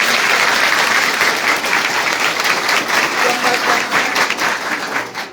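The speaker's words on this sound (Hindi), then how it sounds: "तालियां जोरदार।" Loud, sustained applause from a school quiz audience at Himachal Utsav 2025 in Shimla fills the whole stretch, dense and steady before easing off slightly at the end, with a voice faintly underneath.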